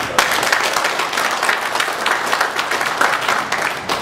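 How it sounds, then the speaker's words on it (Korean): Vigorous applause from a church congregation during a worship service, a dense, loud, continuous clatter of many hands clapping close by for a few seconds. "우리 감사의 힘찬 박수 한번 보내주시기 바랍니다."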